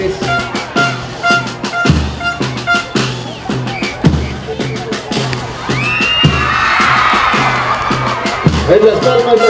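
Crowd at an outdoor Morenada dance performance by the Fuerte Chulambi group in District 3 de Diciembre, cheering and whooping loudly with shouts, continuous through the clip, while music and voices mix underneath.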